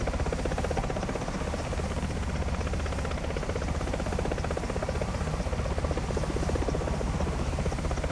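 An AH-64A Apache attack helicopter in the War Thunder VR combat game, its rotor making a steady, loud, rapid thudding drone with constant engine whine that runs unbroken throughout.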